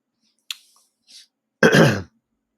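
A single close, gruff throat clearing follows a couple of small clicks and a soft breath, with silence around it.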